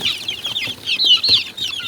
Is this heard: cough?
no